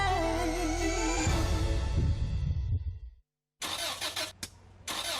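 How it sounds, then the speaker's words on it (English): A car engine struggling to start in an advert sound effect: rough, labored cranking and sputtering that cuts to silence, then returns as harsh mechanical bursts, loud and close with no talk. "That's the sound of your car about to cost you a lot of money."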